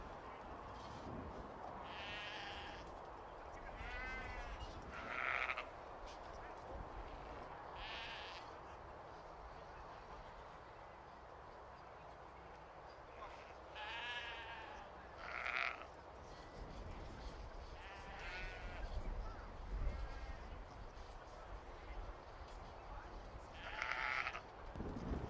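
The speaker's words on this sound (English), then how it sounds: "judging the senior ewes, the older ewes in the Blue Texel class" Blue Texel ewes at a livestock show bleating repeatedly in scattered calls over a steady crowd and arena murmur, with a commentator talking throughout.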